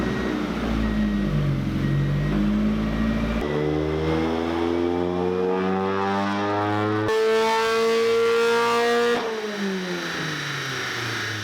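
A car engine revs on a dyno after an Exhintake cam swap and cam gear change. It climbs steadily in long pulls, with a brief gear-change drop between them, and stays loud and close the whole time.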